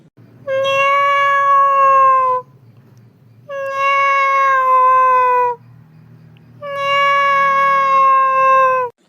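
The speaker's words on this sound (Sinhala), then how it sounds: "උඹට නිකන් පූසෙක් පුරුපුරු ගන්න සද්දයක් ඇහෙන්නේ නැද්ද බං?" A cartoon cat meows three times, each call long, loud and tonal with a short gap between, heard alone with a faint background bed.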